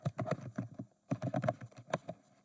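Someone types on a computer keyboard while entering an assignment name, with two quick bursts of close, soft key clicks separated by a short pause.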